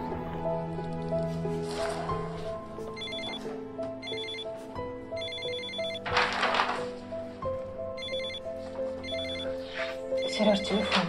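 A telephone rings repeatedly in a domestic setting within a Russian drama, its bursts of bell-like ringing recurring through the clip over a bed of background music and low room sound.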